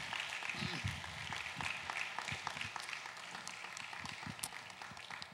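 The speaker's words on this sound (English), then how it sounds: "we can give them a round of applause" A church congregation applauds people being baptized, a soft, distant patter of clapping running throughout, with faint voices mixed underneath.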